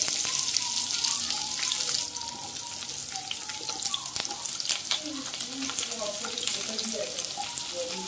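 Chopped onions drop into hot oil in a home kitchen pan while making paneer curry. A bright sizzling hiss bursts at first, then crackles and pops more quietly, with faint talk underneath.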